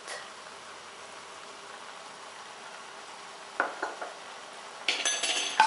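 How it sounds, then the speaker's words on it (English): A spoon stirs a pot of Thai Bua Loy dessert cooking in coconut milk with a pinch of salt. A quiet kitchen background gives way to a few sharp clinks and scrapes of metal against the pot near the end. "and as you cook it you have to stir"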